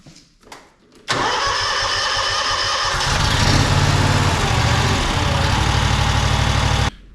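A lawn mower engine catches after a couple of short cranking pulls, then roars into a loud, steady, close-up run that continues for several seconds before cutting off abruptly.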